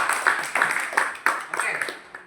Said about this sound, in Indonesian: Oke, luar biasa ya semuanya, tepuk tangan.